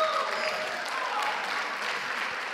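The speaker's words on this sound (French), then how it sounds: "On les applaudit." An audience applauding the musicians at a science talk, steady dense clapping from a crowd, continuous and moderately loud throughout.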